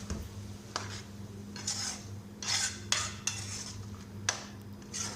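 A spoon stirs kaleji karahi (liver curry) in a pan, scraping and clinking against the metal in irregular bursts over a steady low cooking hum, close and moderately loud with no talking.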